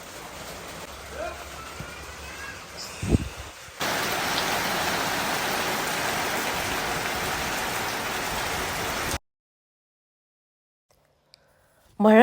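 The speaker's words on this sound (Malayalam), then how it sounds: "ഇങ്ങനെ കറുത്തിരുണ്ടിട്ട് നല്ല സ്ട്രോങ് മഴയാ." Heavy rain pours down under dark skies, a dense loud roar that starts abruptly after a few seconds of quieter outdoor sound and holds steady for about five seconds before cutting off into silence.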